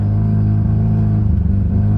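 A Volvo drift car's engine gives a loud, close, steady low rumble with a slight uneven throb, holding without a break for two seconds.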